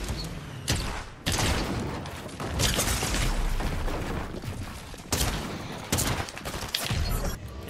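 Gunfire in the Fortnite video game: loud, dense bursts of shots, crackling and booming in rapid succession with brief pauses between volleys.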